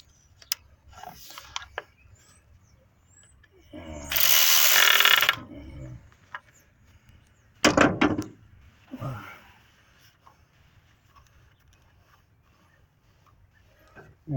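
Work on a 1971 Buick Skylark: a fitting tightened by hand, with a loud ratcheting burst of a couple of seconds, another sharp mechanical clatter later, and small taps and clicks in between, no voices.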